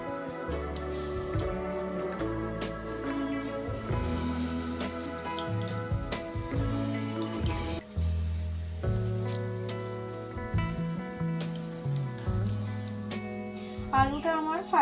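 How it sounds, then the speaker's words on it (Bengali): Potatoes rinsed repeatedly in water in a home kitchen, with splashing, dripping and trickling water close by and faint clinks of a bowl; soft background music plays underneath. "আপনারাও এরকমভাবে বাড়িতে আলুটাকে ভালোভাবে বারবার জল দিয়ে ধুয়ে নেবেন যতক্ষণ না"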